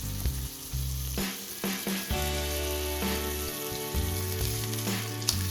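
Ribeye steak searing in a hot pan, a loud continuous sizzle and crackle close up, with intermittent scrapes and thumps as the steak is turned, under low background music.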